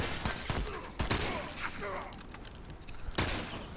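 Gunfire in a shooter video game: a few sharp, fairly quiet shot bursts spaced apart, with a stray rattle, under a background of voices talking.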